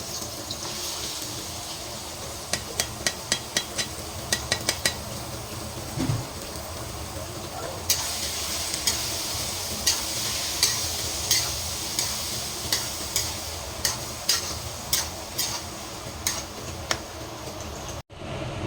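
Tiny dulong fish frying in oil in a pan while being stirred: a steady sizzle under a run of light, regular spatula clicks and taps against the pan, close and moderately loud.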